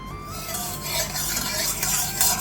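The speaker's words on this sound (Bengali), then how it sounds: "এটাকে এবার একটু নেড়ে চেড়ে নেব।" A spoon scrapes and stirs through white cooking oil in a kadai, giving soft rubbing and light metallic contact sounds with a faint sizzle in a quiet kitchen.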